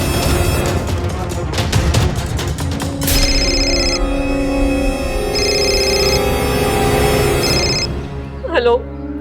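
A telephone rings in repeated electronic bursts over a busy, loud background, ending with a short rising tone.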